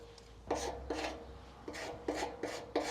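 A tool rasps paint off a 2009 Yamaha R6 fuel tank in six short strokes, each a gritty scrape, close up and fairly quiet, with no talking.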